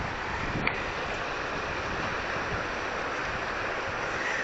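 Steady broadband rush of wind and water waves, loud and continuous with microphone wind buffeting and a brief knock near the start, no speech.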